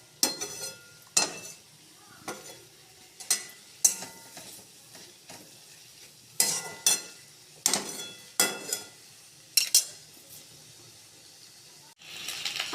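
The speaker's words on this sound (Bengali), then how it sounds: "আদা কষানো হয়ে গেছে" Ginger frying in a pan while being stirred, with repeated scraping strokes at a regular rhythm over a soft sizzle, close up and moderately loud.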